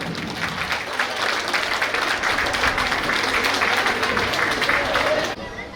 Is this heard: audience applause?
yes